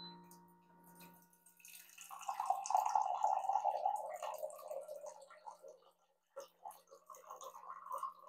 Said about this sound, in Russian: Замок открываем и набираем холодную воду.